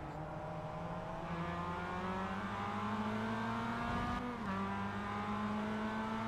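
Onboard engine of the number 15 car in a Production Car Challenge sim race, a loud steady drone that climbs in pitch through the gears, with a brief dip at a shift before rising again.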